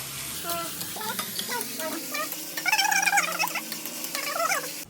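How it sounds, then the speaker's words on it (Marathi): Chopped onions frying and stirred in a pan for a seafood dish, with a steady sizzle under repeated scraping strokes of a spoon, while clattering bursts and faint background voices come and go. "हे बघा मस्त कांदा चांगला पहिला शिजवून घेते"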